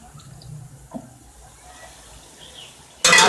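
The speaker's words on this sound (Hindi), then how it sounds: "अब मैं आधा गिलास डालकर इस पर ढकना लगा दूँ ताकि ये मसाला यकजा हो जाए।" Half a glass of water goes into a frying masala for Lahori white chickpea curry, a sudden loud burst of splashing hiss at the very end after near silence with faint kitchen noise.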